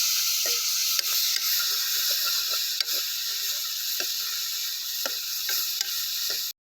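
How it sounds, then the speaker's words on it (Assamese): Tomatoes fry with ginger, garlic and spices in a pan for egg curry, a loud, steady sizzle throughout with scattered clinks and scrapes of stirring, close and with no talk. "বিলাহীখিনিকে ভাজি ল'ব লাগিব"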